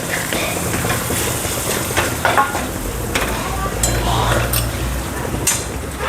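Tomato tipped into a hot pan for a Marathi dhemsa (tinda) vegetable dish with turmeric, frying with a steady close sizzle and scraping stirs throughout, with no talk.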